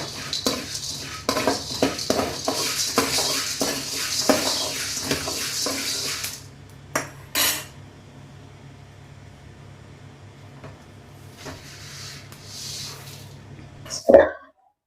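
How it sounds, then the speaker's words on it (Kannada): Lentils being dry-roasted in a pan on a medium flame, with a steady scraping and stirring clatter of a spoon against metal for several seconds, then quieter pan sounds and a final louder knock. "ಈ ಕಾಳುಗಳನ್ನೆಲ್ಲ ಆದಷ್ಟು ಒಂದು ಮೀಡಿಯಂ ಫ್ಲೇಮ್ ಇಟ್ಕೊಂಡು ದುಂಡು ಹುರ್ಕೋಬೇಕು"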